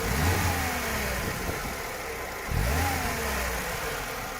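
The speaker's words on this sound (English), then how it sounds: "Very nicely running and nicely sounding engine." A 1988 Lada Niva 4x4 engine revs up and settles, rising again midway; a steady mid-pitched motor rumble close by, with no voices.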